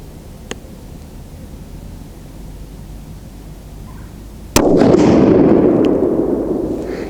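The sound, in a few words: rifle shot, TC Compass with muzzle brake, Hornady 168g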